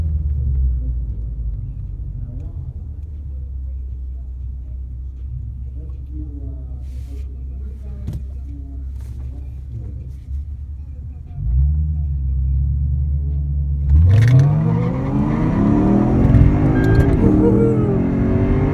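A Nissan 370Z runs at a drag strip, its engine rumbling low and steady before a loud surge of revving acceleration near the end, with rising engine tones close to the microphone.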